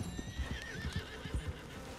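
A horse in the video game Red Dead Redemption 2 whinnies in a rising, wavering neigh over a steady clip-clop of hooves, fairly quiet and close.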